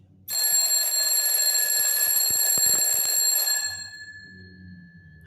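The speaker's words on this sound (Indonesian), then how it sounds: "pakai inilah alarm, insya Allah terasa getarannya kan" A mechanical twin-bell alarm clock rings loudly and continuously for about three seconds, a metallic bright clatter, then stops and fades into quiet room tone.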